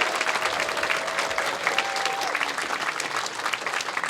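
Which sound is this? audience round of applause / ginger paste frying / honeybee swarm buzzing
audience round of applause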